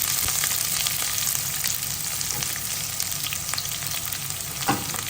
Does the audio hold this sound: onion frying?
yes